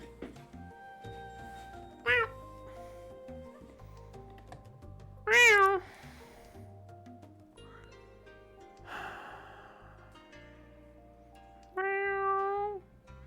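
A person imitates cat meows in a playful, high-pitched voice, giving several short, separate mews spaced across the stretch over a quiet background of music or game sound.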